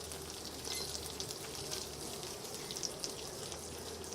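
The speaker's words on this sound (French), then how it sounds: "Donc on est déjà sur 4 minutes de cuisson pour les filets de pigeon côté peau." Pigeon fillets fry skin side down in a pan, giving a steady, moderately loud crackling sizzle with small spitting pops throughout.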